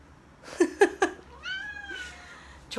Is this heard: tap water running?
no